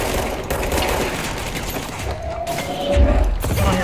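Pistol fire and combat noise in the video game Control form a loud, continuous barrage of shots and mechanical clatter, with a heavier thump near the end.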